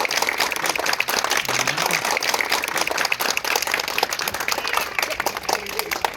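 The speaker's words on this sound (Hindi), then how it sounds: "ताली बजाइए।" An audience claps and applauds at a public speech event, dense and sustained clapping throughout with some voices mixed in.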